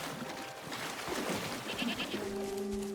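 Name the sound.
goat bleating in the Wuthering Waves video game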